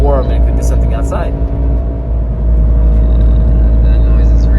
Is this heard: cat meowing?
no